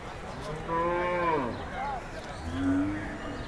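A cow moos at a village cattle market before Eid, two or three drawn-out low calls close by, the first long and rising, then a shorter one and a final deep groan.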